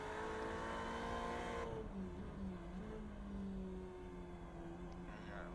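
Ferrari 488 race car engine in iRacing at Imola, revs dropping under engine braking into a hairpin: a loud, steady engine drone with falling then shifting harmonic tones, continuous throughout.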